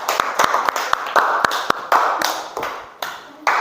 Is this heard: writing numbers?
no